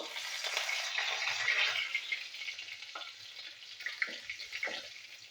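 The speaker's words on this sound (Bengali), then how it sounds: "এই তেলেতে আমি একটু তেজপাতা ফোড়ন দেবো" Bay leaves dropped into hot oil left from frying bitter gourd, a bright sizzle that flares loudly at first and then settles into softer crackling with a few stirring clinks, close and with no talking.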